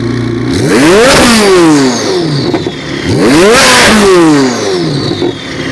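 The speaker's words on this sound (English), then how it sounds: "he's going to give us a couple pretty high revs with it" A twin-turbo Chevrolet Corvette C8 Z06 engine revs hard twice, each time climbing to a loud, high-pitched roar before dropping back. The revs come a couple of seconds apart.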